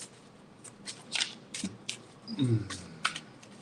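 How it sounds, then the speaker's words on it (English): A small shuffle of tarot cards before a reading, giving soft, close papery riffles and taps in short bursts, with faint room noise. "That is a small shuffle."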